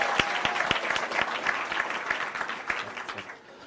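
Workshop attendees clap for themselves, sharp individual claps standing out within a lively, moderately loud round of applause that continues steadily before tapering at the close.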